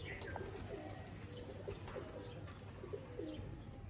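A pair of Indian Pachala pigeons coos softly and repeatedly against a steady low background hum, with a few faint chirps mixed in and no talk.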